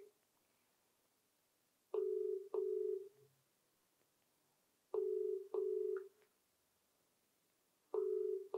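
Outgoing call to a mobile phone giving a repeated ringback tone: three double-burst rings spaced about three seconds apart, steady and clear, with quiet gaps between and no one answering.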